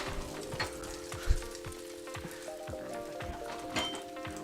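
Moo shu pork frying in a wok gives a steady crackling sizzle, with occasional clinks and scrapes of a utensil against the pan, alone and moderately close.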